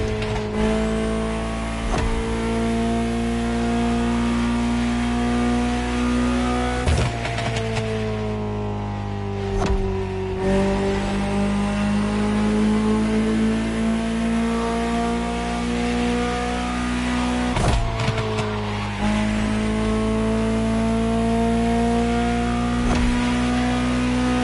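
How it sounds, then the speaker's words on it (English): Ferrari supercar engine in the racing game The Crew Motorfest, a steady loud drone that rises and falls through gear changes, with brief revving surges and shifts, no voices over it. "Just listen to the car you're driving"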